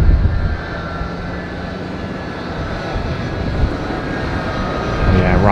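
A Boeing 767 departing Tampa on a short takeoff roars steadily with broadband jet engine noise, loud and sustained throughout with a slight swell near the end; no speech is heard.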